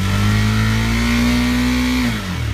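A 2017 KTM 390 Duke single-cylinder motorcycle engine held at high revs, a loud, steady, close drone that holds its pitch before dropping off near the end, with no talking.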